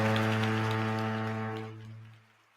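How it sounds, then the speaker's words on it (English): A deep, sustained foghorn blast, loud and steady, holds for about two seconds and then fades out, with no talking over it. "Sound the motherfucking foghorn"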